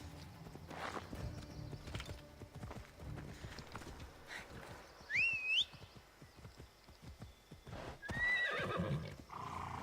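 A horse in the video game Assassin's Creed Odyssey clip-clops steadily over ground while neighing twice, a high whinny midway and a shorter one near the end.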